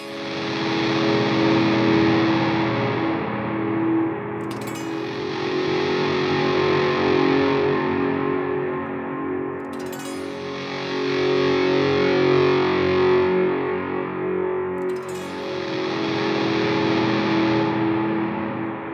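An electric guitar is played through a pedalboard on a distorted wash patch, with overdrive feeding reverbs and delays, producing three sustained, swelling chords that ring out and blur into long ambient tails, loud and alone.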